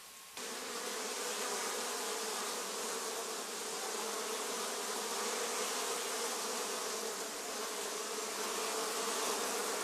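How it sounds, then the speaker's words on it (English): Honey bees swarm the hive entrance during the busy sourwood season, many bringing in pollen. Their buzzing is dense and steady, close by and loud, and it fills the whole span without any talking. "Bees are bringing in large amounts of pollen."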